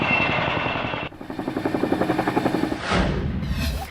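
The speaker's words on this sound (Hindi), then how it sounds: "रेस्क्यू ऑपरेशन लगातार जारी है, लोगों को राहत सामग्री पहुंचाई जा रही है चिनूक हेलीकॉप्टर के द्वारा" A Chinook helicopter flies relief supplies during a flood rescue operation in Chamoli, Uttarakhand. Its rotor beats thump loudly and steadily, with a whining engine above them. The sound holds throughout and rises in a louder rush near the end.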